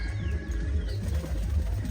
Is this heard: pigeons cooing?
yes